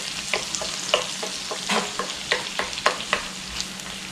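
Butter sizzling as it melts in a pan to start a roux for Salisbury steak gravy, a close, steady hiss broken by regular scrapes of a stirring utensil.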